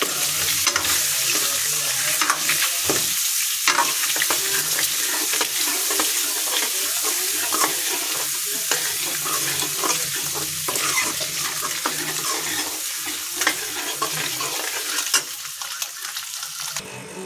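A pan of egg masala with chilli powder being stirred, a loud continuous sizzle and fry hiss close by, with scraping stirs throughout and no talk.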